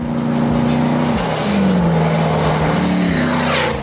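A loud, throaty modified car engine with an enlarged engine revs up and down several times, its pitch climbing and dropping, close by with no talking.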